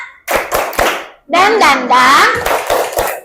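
Third-grade elementary school children stand and do a rhythmic clapping chant in an Indonesian classroom, sharp claps in quick bursts mixed with lively sung and spoken voices.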